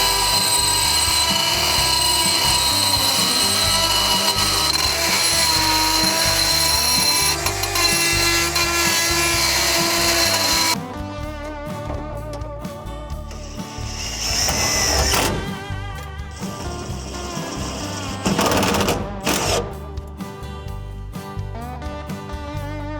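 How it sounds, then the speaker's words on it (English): A power drill bores a few mounting holes for a plate while a shifter boot is being fitted in a Dig Dug arcade cabinet, a loud sustained whine with dips and short bursts in the second half. "I think we can drill a couple of holes now"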